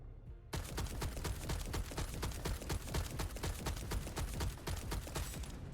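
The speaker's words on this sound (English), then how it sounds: "That sounds like an automatic shotgun." Automatic shotgun in the video game The First Descendant firing a long, fast, steady string of loud, close blasts, the shots running together into a continuous rattling burst after a brief quiet start.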